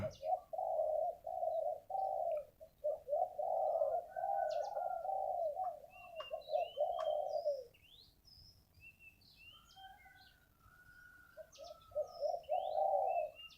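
A large dove, a Thai nok khao yai kept as a decoy bird, coos in repeated rounded phrases, with softer chirps from other birds between bursts and no talking.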